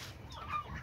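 A chicken on a farm gives a brief, faint cluck amid quiet rural background noise, lasting under a second.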